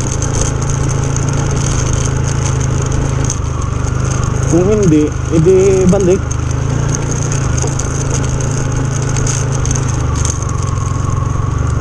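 Motorcycle engine runs at a steady low drone outdoors on a rough road, close and continuous, while someone speaks briefly over it partway through.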